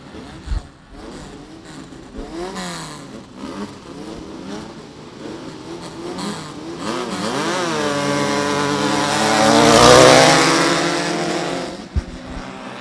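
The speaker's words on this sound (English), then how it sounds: "Listen to these guys in these engines." Off-road race cars with Volkswagen 1600 engines buzz and rev at an off-road racing event, rising to a loud, high-pitched whine as one passes close, then fading, with several engines overlapping.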